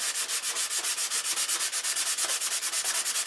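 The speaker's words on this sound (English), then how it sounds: "if you want to sand with 30 grit, which I do quite frequently" Fast, rhythmic rasping of coarse 30-grit sandpaper scrubbing back and forth, steady and close, with no voices.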